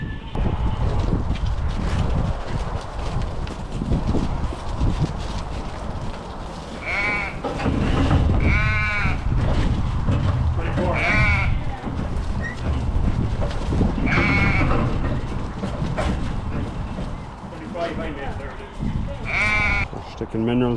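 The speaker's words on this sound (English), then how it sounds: "Ewes and ewe lambs in the hay shed." Ewes and ewe lambs bleat in a hay shed, several loud nearby calls rising over a constant shuffling, rustling din of the flock, with people talking throughout.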